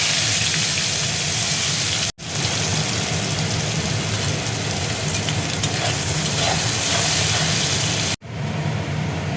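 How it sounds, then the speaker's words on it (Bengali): Chopped onion with dried red chilli and nigella seeds fries in hot oil for a Bengali ridge gourd and prawn dish: a loud, dense, continuous sizzle close up, broken by two short gaps. "ওই তেলের মধ্যেই দেখো আমি শুকনো লঙ্কা ফোড়ন দিয়ে দিচ্ছি, কালো জিরে দেখো দিয়ে দিচ্ছি, এবার দেখো পেঁয়াজ কুচি দিয়ে দিচ্ছি"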